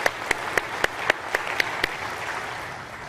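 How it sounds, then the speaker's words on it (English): Audience at the 2015 Wisconsin Energy stockholders' meeting applauding the company directors: a run of distinct, evenly spaced claps that soften into a thinner, moderate spatter of applause in a large room. "Please join me in a round of applause for all of our directors."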